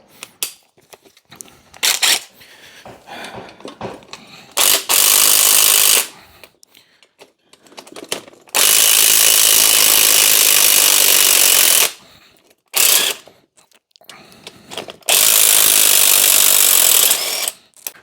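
Spring compressors being released from a dismantled Daihatsu car strut, with loud bursts of rattling impact-wrench hammering that stop and start in several long runs between quieter clinks and handling noise.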